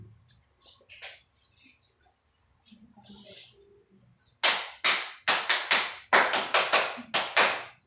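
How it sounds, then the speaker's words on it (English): A student group performs a cheerleading clap during a math class demonstration: after a few quiet murmurs and taps, a rhythmic burst of about ten loud, sharp unison claps rings out near and clear. "You must present your cheerleading clap"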